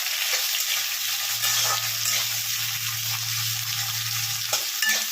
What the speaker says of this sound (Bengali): দিয়ে আমি আগে একটু ভালো করে একটু ভেজে নিচ্ছি